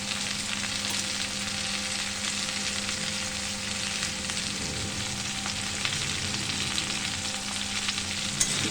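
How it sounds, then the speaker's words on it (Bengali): Ground cumin and coriander spices fry in a pan for a fish-head and Malabar spinach dish, giving a loud, continuous, even sizzle with faint stirring and no talk. "দিয়ে সমস্ত মশলাগুলো এবার কষিয়ে নেব"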